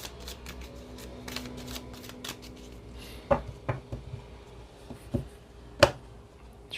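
Tarot card decks handled and shuffled on a table, soft papery riffles and slides with a few sharp taps and snaps as cards are set down, close and fairly quiet.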